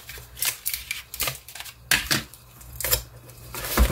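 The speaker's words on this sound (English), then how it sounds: "and then I go ahead and tape this shut as well" Packing tape is pulled and pressed to seal a cardboard box shut, a series of close, crackly rips and taps in uneven bursts.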